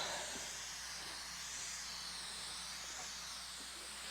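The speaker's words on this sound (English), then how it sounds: "give it a light spray with some glue" Steady, continuous hiss of an aerosol spray adhesive can, close and fairly loud, running without a break and with no talking.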